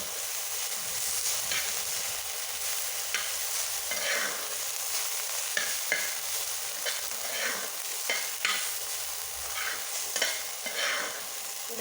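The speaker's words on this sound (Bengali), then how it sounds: "রসুন পাতাগুলো এগুলোকে ভালো করে একটু ভেজে নেব।" Garlic leaves frying in a modest amount of oil in a pan, a soft continuous sizzle broken by repeated scraping strokes of a spatula stirring the greens, close up with no talking.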